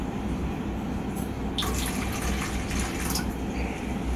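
Water poured from a container while prepping a wall for cleaning before painting, a continuous splashing trickle that swells into brighter, louder splatters midway, with no talking.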